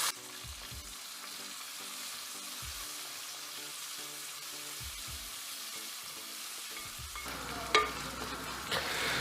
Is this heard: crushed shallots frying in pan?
yes